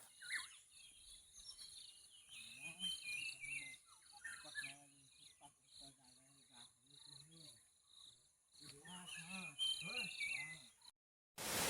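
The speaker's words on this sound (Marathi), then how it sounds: "मस्त सकाळची पहाट एकदम पाखरांचा किलबिलाट" Birds chirp and twitter through an early-morning dawn outdoors, mixed with a steady high insect trill, while a voice talks intermittently in the foreground.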